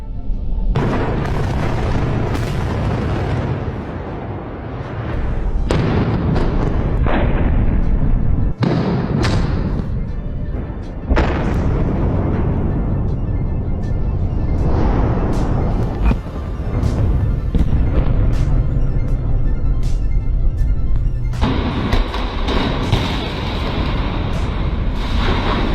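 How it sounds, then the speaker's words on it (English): Explosive charges detonate during a steel bridge demolition: a series of loud, booming blasts and heavy thuds, followed by long rumbling of collapsing steel, all very loud and sustained. "over 900 charges were detonated, bringing 10 million kilos of steel to the ground"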